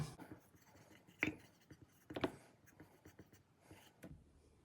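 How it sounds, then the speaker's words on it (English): A marker scratches a label onto a jar lid in a few short, quiet strokes and squeaks, separated by pauses. "And we're going to write curry rice on here."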